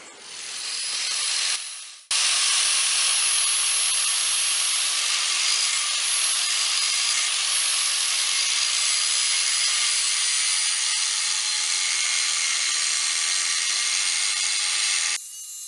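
A Harbor Freight 4-1/2 inch angle grinder grinding, close and loud, with a brief start and dip, then a steady high whine that runs unbroken for over ten seconds before cutting off.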